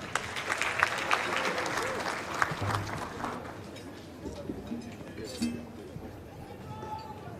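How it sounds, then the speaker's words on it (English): Applause from the crowd for a choir at a Zambian independence anniversary rally, a burst of clapping that fades over several seconds into mixed crowd noise. "Let's give them a round of applause."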